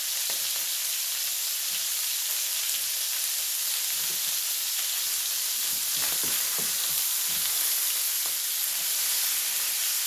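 Onions frying in a pan, a steady even sizzle with a bright hiss that runs throughout, and a few faint stirring knocks underneath.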